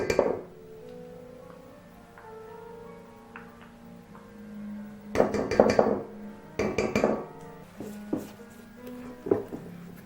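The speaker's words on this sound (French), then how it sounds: "surtout bien mélanger la farine avec le lait et en dernier la levure" A spoon or utensil clinks and scrapes against a bowl while brioche dough of flour, milk and yeast is mixed, quiet at first, then clusters of sharp clattering strikes in irregular bursts.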